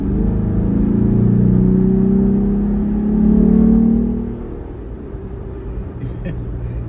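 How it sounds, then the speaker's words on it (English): Jeep Wrangler engine with a new air intake, given a little gas: a steady, loud low rumble swells into a brief rev around the middle and then settles back to idle, with a voice faintly present. "I'm gonna give it a little bit of gas here"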